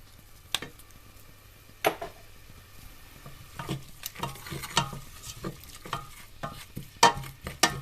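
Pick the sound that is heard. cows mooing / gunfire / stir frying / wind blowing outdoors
stir frying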